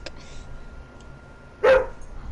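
A scared pet dog gives a single short bark, close and fairly loud, against an otherwise quiet indoor background with a faint earlier yip.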